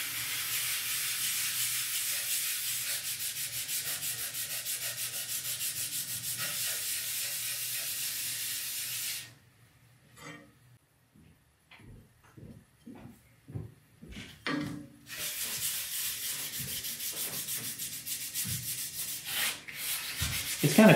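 A plane blade is rubbed back and forth on 1000 grit sandpaper, giving a loud, continuous gritty hiss, then a pause of scattered soft strokes before the steady rasping resumes, close and without talk.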